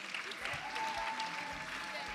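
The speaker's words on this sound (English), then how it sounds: "So you should clap for her, please." Applause from an audience at a girl child summit for International Day of the Girl, steady and moderately distant, a continuous patter of clapping for an award giver, with a faint tone running through part of it.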